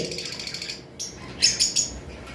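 Lovebirds at a bird seller's shop give a few short, sharp chirps close by over a steady background hum.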